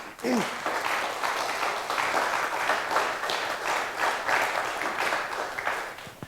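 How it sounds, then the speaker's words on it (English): Warm audience applause at a tech event closing session fills the room for several seconds, a dense, even patter of many hands clapping with a few louder claps standing out. "So warm applause for the C3 VOC,"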